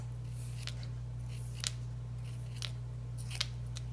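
Scissors snipping paper strips to varying lengths for iris paper folding, four or five crisp separate cuts spaced across a few seconds, close and clear over a low steady hum, with no talk.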